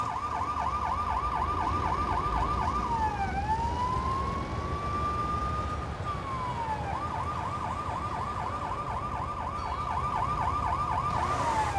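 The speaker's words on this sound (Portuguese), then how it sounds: "Estou com a sirene ligada!" In the Lego City Undercover video game, a police car siren wails without a break, rising and falling and then holding a long steady tone. It is loud and alone, with no talk over it.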